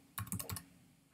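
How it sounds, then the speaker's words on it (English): Quick burst of computer keyboard typing, about five crisp keystrokes in rapid succession, fairly close and moderately loud, followed by a brief pause and one more soft tap. "if you go to your favorite browser and you type in"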